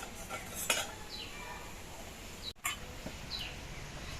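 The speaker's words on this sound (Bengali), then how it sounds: "এবার জলের মধ্যে এই বীজগুলোকে হাতা দিয়ে গুলে দিচ্ছি।" A ladle stirs ground jackfruit seed paste into hot water in a wok, giving scattered metallic clinks and scrapes at a faint, close level, with occasional bird chirps in the background.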